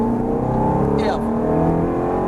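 Ferrari F430 GT car at full throttle on the Chenevières circuit, its engine note climbing steadily and loudly for a couple of seconds from an in-car position, with an instructor's voice talking over it.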